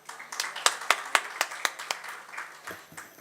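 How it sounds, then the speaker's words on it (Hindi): An audience at a memorial music evening claps in a steady, fairly close rhythm that thins and fades out, followed by a brief bit of faint talking at the end. "हमारे सुर साधकों का उत्साहवर्धन, हौसला अफजाई करते रहें अपनी तालियों से"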